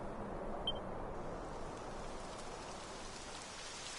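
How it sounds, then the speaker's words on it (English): Steady rain falls in the Dragon Quest 11 video game, a soft, continuous wash of droplets heard at low level with no voices. "Typical. It would have to go and start raining, wouldn't it?"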